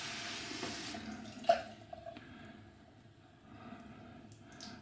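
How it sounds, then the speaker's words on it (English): Warm water runs from a tap into a porcelain shaving bowl, a faint, steady trickle with one brief clink near the start, heard close up in a quiet room. "Just gonna fill the porcelain bowl here that we're gonna lather in with warm water first."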